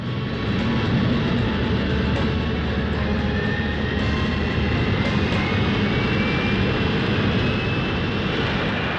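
Concorde supersonic airliner on British Airways flight BA 300, a steady dense roar of engine noise heard as from the cabin, continuous and loud with no voices.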